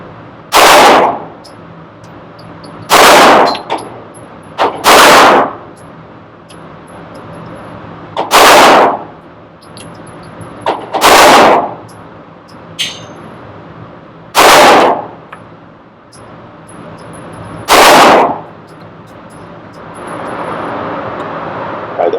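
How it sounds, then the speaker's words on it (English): A Wilson EDC X9 pistol fired at an outdoor shooting range, seven sharp, loud single shots spaced a couple of seconds apart, each followed by a short echoing tail over faint background hum. "see how this little EDC X9 shoots out here at Magnum"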